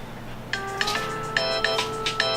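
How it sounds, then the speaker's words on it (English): A phone rings with an incoming call, a repeating electronic ringtone of short melodic bursts sounding at a regular pace, fairly close and clear. "I'm getting a phone call, that's what it says."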